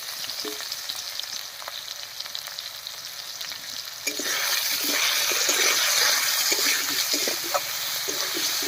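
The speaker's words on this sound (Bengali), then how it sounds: "আলুটাকে একটু ভাজা ভাজা মতো করে নেবো" Potato pieces with salt and turmeric sizzle and crackle steadily in a hot pan, with a soft stirring scrape; the frying swells louder about halfway through and stays close and continuous.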